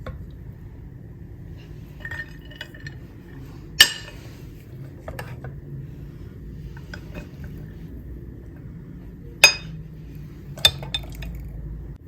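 Pork stir fry and wild rice being served onto dishes: sparse clinks of utensils against plates and glassware, with two sharper knocks standing out over a quiet room and no talking.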